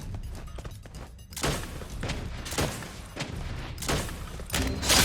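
Rapid bursts of gunfire and explosive thuds from the Free Fire shooter game, including an M60 machine gun, crackling in dense repeated volleys over about five seconds at close, loud level.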